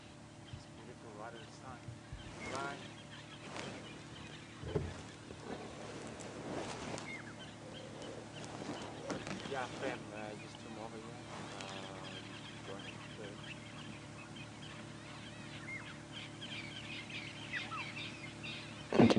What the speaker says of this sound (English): You can hear the dawn chorus of birds has suddenly decided to wake up.